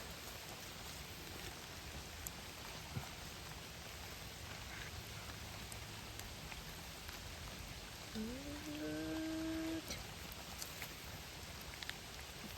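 Steady rain falls faintly and evenly during mushroom foraging outdoors, with a distant voice heard briefly partway through.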